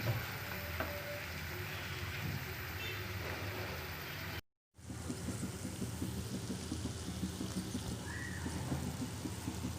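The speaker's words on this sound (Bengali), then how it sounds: "চিকেনটা একটু ভাজা হয়ে আসলে এরপর আমি একে একে সব সবজিগুলো অ্যাড করে দিব।" Chicken fries in a pan as filling for spring rolls, giving a steady, close hiss of sizzling oil that runs continuously apart from a short cut-out near the middle.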